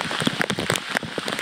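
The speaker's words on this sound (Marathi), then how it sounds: "खूप वाढलाय पाऊस." Heavy rain pours down in the open near Madheghat waterfall, a steady dense hiss of drops pattering on nearby surfaces with scattered louder splashes throughout, no voices.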